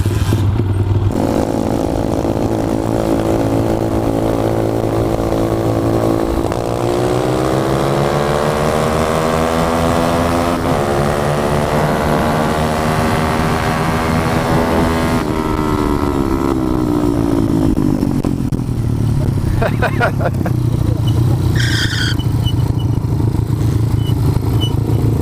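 Motorcycle engine kickstarted and running, a loud close steady rumble whose pitch climbs and holds as it revs, then settles back toward idle with some clatter near the end.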